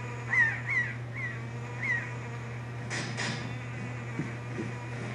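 Seagulls cry in the video game Zelda: Wind Waker HD, several short harsh calls in quick succession, followed by a couple of brief swishing game effects over a constant low electronic hum.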